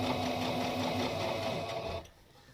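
A domestic sewing machine stitches a bandana bib, its steady motor whir and rapid needle rhythm running continuously for about two seconds before stopping abruptly, close up with no talk.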